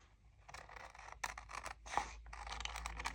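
Scissors fussy cutting paper for a spring craft project, close and quiet, with a series of soft snips and papery rasps in uneven strokes and no talking.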